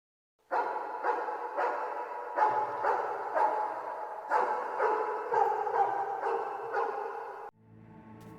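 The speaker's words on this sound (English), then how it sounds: "the FNAF 4 ambience where we can sometimes hear a dog barking" Dog barking in the ambient soundscape of the video game Five Nights at Freddy's 4, a series of rhythmic, steady bark-like pulses over a continuous droning background before abruptly cutting to a different low sound.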